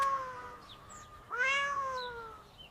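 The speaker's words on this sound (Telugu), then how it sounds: "అప్పుడే వారికి దూరంగా ఒక చిన్న పిల్లి అరుపు వినిపించింది." A small kitten gives two thin, plaintive meows, the second longer and rising then falling, fairly clear against quiet background with no talk.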